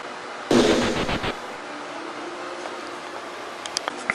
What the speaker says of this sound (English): Tyrone uses the old ninja's flash bomb